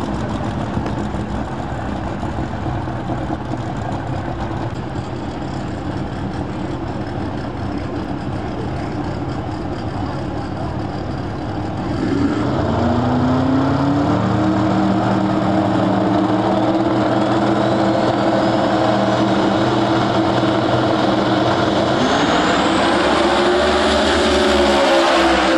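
Big tire no prep drag race cars idle loudly side by side, then launch into a roaring, rising engine scream that holds as they tear down the strip, steady and near.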